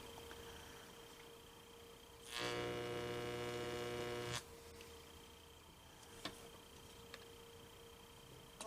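An electro-etching machine on its AC setting marking a cook's knife, giving a loud buzzing mains hum for about two seconds over a faint steady background hum, followed by a few light ticks.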